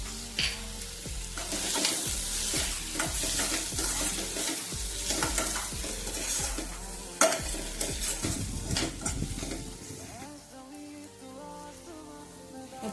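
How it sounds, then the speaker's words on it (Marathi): Egg bhurji masala sautéing in a pan, with steady close sizzling and frying broken by repeated scraping and stirring strokes, loud and continuous with no talk, easing to a quieter sizzle near the end. "एक 4 ते 5 मिनिटे याला परतून घेऊया।"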